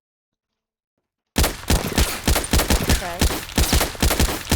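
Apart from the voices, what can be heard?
pistol firing in Roblox video game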